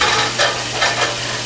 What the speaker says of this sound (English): putting that water on the meat